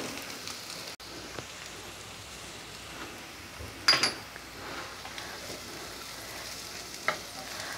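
Dry spices and soybeans frying in a pressure cooker pot, a steady soft sizzle with stirring scrapes and a couple of brief louder clanks, no voices.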